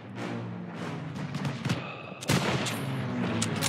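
Call of Duty WWII gunfire during a World War II battle for a stronghold, with scattered rifle and machine-gun shots, some distant and some close and sharp, over a rumbling battlefield background.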